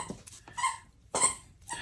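A puppy whimpers in a room in a few short, high squeaky bursts, fairly close and faint, with quiet pauses in between.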